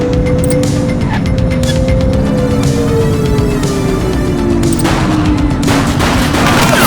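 Sustained gunfire in The Precinct, a police game set in Averno City, rattles loudly through the whole stretch in rapid bursts, mixed with a passing car engine whose pitch slides steadily down, with no talk over it.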